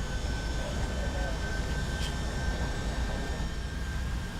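Jet engines of a Boeing 757-200 in the X-Plane flight simulator roar steadily at takeoff thrust, a dense continuous rumble with a thin high whine, loud and constant throughout.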